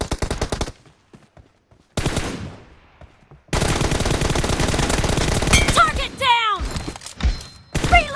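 Automatic rifle fire from the mobile battle-royale game PUBG Mobile: sustained rapid bursts, loud and close, broken by short pauses and ending with whooshing effects and thuds.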